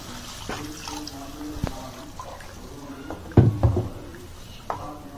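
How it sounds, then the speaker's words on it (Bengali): Water poured into fried masala in a pan while making katla fish curry, giving a brief splashing, sizzling burst midway with faint kitchen clatter around it. "আমি এর মধ্যে দিয়ে দেব জল।"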